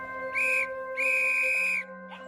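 Two shrill, sustained blasts on a whistle, a short one then a longer one, ring out close and loud, with faint background tones between and after.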